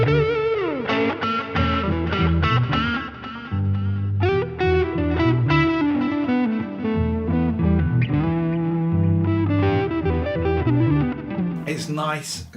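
An electric guitar played through the analog drive distortion of a TC Nova System effects unit rings out in steady, gritty chords and riffs for the whole stretch, loud and close, with a squeal of feedback near the end.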